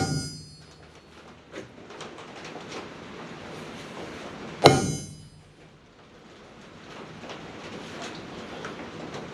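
A single sharp metallic hit rings out as a hammer drives a centre punch into a steel front linkage to mark drill holes, a loud close strike standing out from low workshop background noise.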